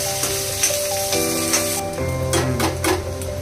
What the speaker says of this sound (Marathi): कांदा चांगला लाल होऊ द्यायचा